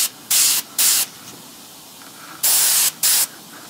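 An airbrush sprays paint onto a droid arm in four short, sharp hissing bursts, each under half a second, loud and close, separated by quiet pauses.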